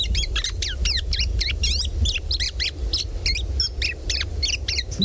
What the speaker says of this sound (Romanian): Grangurul la cireșe.